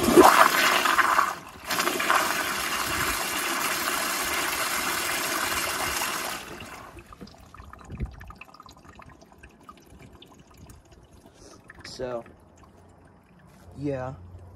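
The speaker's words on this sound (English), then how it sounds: "So I'm gonna give y'all kind of another flush." A Toto CT705 toilet flushed by a piston flushometer: a loud, steady rushing flush about six seconds long with a brief break, then fading to gurgles and trickling refill water, with a voice talking near the end.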